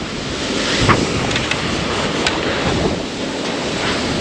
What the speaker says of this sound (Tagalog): ang lakas ng hangin kaya hindi tayo makapagpalipad ng drone